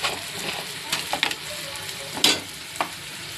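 Tomatoes sautéing in a pan for palak dal, a steady sizzle with a few sharp stirring scrapes and clinks of a spoon against the pan, close and moderately loud.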